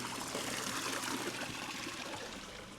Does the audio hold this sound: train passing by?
no